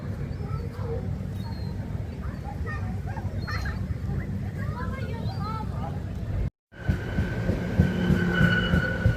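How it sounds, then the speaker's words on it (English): Train pulling into Southend Central station, a steady loud low rumble of wheels and carriages with rising squealing tones near the end, after a brief cut. "This is my train just coming back in now."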